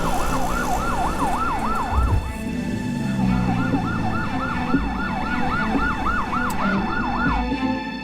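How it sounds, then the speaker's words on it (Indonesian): An ambulance siren wails in a steady rising-and-falling sweep over constant road and traffic noise, with a short gap partway through before it resumes, loud and close, with no talking. "Pasti ini ambulans."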